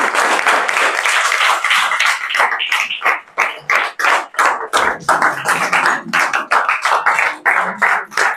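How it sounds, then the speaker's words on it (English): A large audience in a parliament debate hall applauds as the Speaker of the House arrives, with loud, sustained, dense clapping of many hands that thins into scattered claps toward the end. "So please give him a big round of applause."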